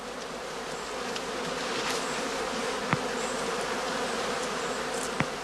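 Honey bees swarm around an opened straw skep on a Lower Saxony heathland apiary during cast swarming season, a dense continuous buzzing hum filling the air with a couple of sharp clicks standing out.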